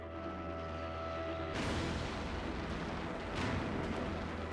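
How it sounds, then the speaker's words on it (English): A World War II artillery barrage rumbles as a continuous, dense roar, with a sharp loud burst partway through and another swell near the end, heavy and distant-sounding with no speech. "Facing an intense artillery barrage from the Americans, Bernhard is unable to fly close enough to t"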